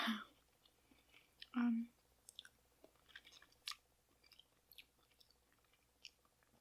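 Close, quiet chewing of a juicy, soft pear, wet smacking and small soft bites in an uneven rhythm, with a couple of louder mouth sounds and brief soft speech near the start.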